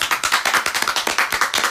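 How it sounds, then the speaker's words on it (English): A small group claps steadily with distinct, fairly close hand slaps in an uneven rhythm, a short burst of applause for the listeners at the close of a talk show episode. "So give yourselves a round of applause."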